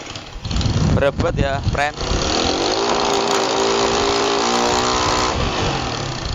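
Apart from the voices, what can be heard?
motorcycle engine revving after CDI swap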